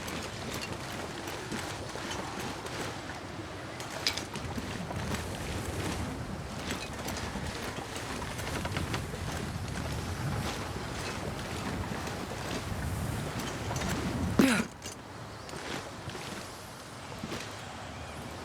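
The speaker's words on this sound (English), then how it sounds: "This wind keeps blowing out our torch." Constant gusting wind in The Long Dark survival game, a broad, unbroken roar with rushing, whooshing texture throughout, loud and close, with no speech over it.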